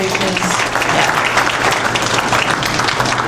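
A crowd at a state government announcement on youth workforce investments gives a round of applause, with dense, loud clapping throughout the short stretch.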